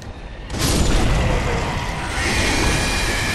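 Fire bombs in Dark Souls 3 go off with one sudden booming burst, and a loud, dense roar of flame and rumble carries on for several seconds.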